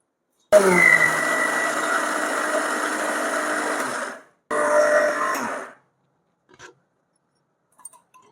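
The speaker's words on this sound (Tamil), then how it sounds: "இதை மிக்சியில் போட்டு அரைச்சி எடுத்துக்கலாம்" A mixer grinder whirs loudly as it coarsely grinds a roasted dal fry mix, running in one long burst of about four seconds, stopping, then a shorter second burst, followed by faint clinks.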